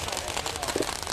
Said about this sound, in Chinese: 这边也在放烟花